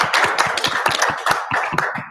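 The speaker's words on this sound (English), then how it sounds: "give him a round of applause" A small audience at a local council election candidates' forum claps for a candidate, a close, brisk patter of individual hand claps in quick succession.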